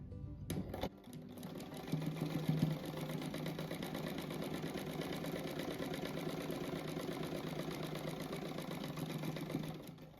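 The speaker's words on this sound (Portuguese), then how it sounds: "Agora eu vou costurar esse outro aqui." A sewing machine stitches a patchwork car-themed rug for a child's room, running in a steady, continuous mechanical whir after a brief start, loud and close, with no talking.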